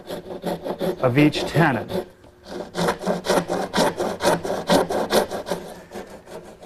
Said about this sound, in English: I'm going to use a dovetailing saw to make a shoulder cut at the top and bottom